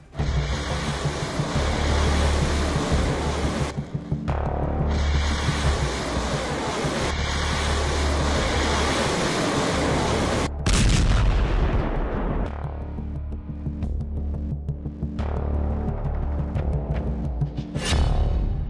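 North Korean high-thrust solid-fuel missile engine ground test firing: a loud, continuous roar that surges and briefly dips before rumbling on, with no voices.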